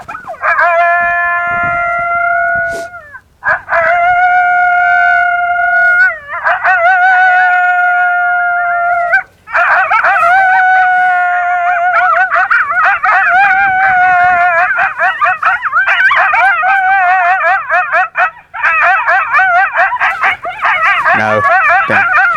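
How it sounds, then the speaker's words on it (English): A played coyote pair call: two coyotes trade high, wavering howls and rapid yips, rising into a frantic chorus of overlapping yelps and quavering calls, loud and close. "So this is a coyote pair yip howl."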